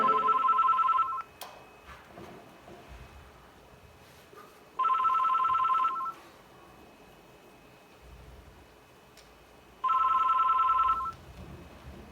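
A telephone rings indoors in three separate bursts spaced several seconds apart, with quiet room noise between the rings and no speech.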